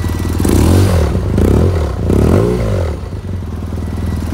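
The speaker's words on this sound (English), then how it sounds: "Listen to that engine." A 2012 BMW R1200GSA adventure motorcycle engine idles and revs close by, with low throaty rumbling swells that rise and fall twice before settling into a steady idle.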